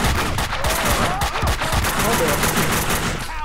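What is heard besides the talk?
gunfire from the video game Max Payne 2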